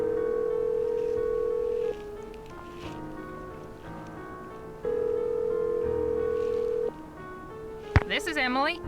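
In the Nancy Drew game Message in a Haunted Mansion, a phone gives a steady dial tone, then a series of short keypad tones as a number is dialed, then the dial tone returns. A brief chirping ring follows at the end.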